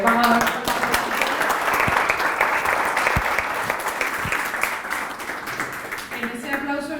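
A conference audience applauds steadily, a full room of clapping that eases slightly toward the end, with a voice beginning to speak over the final moments.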